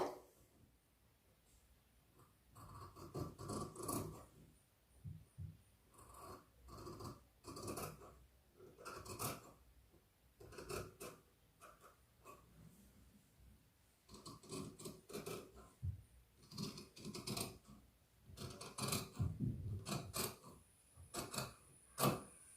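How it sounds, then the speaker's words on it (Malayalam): Scissors cutting fabric to shape the neck of a yoke nighty, heard as quiet, close snipping and rasping strokes in irregular bursts with pauses between, with no talking. "അപ്പോൾ നെക്ക് നമുക്ക് ഇവിടുന്ന് ഇങ്ങോട്ട് കട്ട് ചെയ്യാം"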